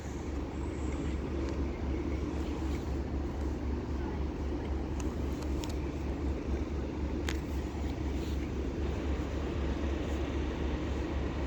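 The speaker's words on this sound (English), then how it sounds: "The next train to be thundering down the line will be a Grand Central Adelante running from London King's Cross to Sunderland" A Grand Central Adelante train running from London King's Cross to Sunderland passes through Doncaster station, a steady heavy rumble with a constant low drone, heard from the platform at a moderate distance.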